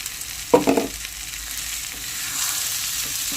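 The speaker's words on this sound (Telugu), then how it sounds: "ఇప్పుడు మనం పచ్చి బఠానీలు వేసుకుందాం." Green peas tipped into a hot pan, a sharp splatter burst on hitting the oil, then a steady close sizzle with light stirring.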